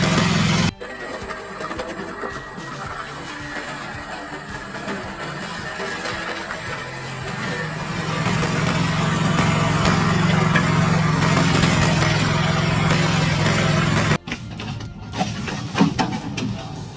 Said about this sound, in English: With a powerful engine and compact design, the machine helps easily handle large and hard tree stumps